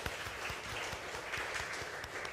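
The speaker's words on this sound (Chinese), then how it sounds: "我们再一次在这里我们鼓掌，我们谢谢他" A church congregation claps steadily in applause at a Sunday service, a dense, even wash of hand claps sustained throughout with no voices over it.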